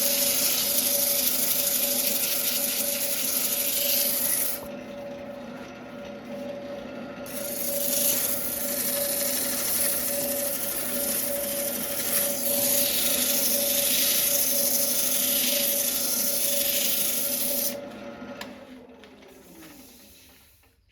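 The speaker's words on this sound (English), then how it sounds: "give it a quick touch with the sandpaper before I flip it." Sandpaper rubbing over a cherry wood bowl gives a loud, continuous raspy hiss that shifts in pressure now and then, runs steadily for most of the stretch, then tapers off near the end.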